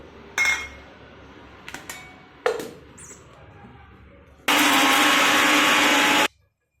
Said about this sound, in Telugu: మిక్సీకి వేసేసుకుందాము.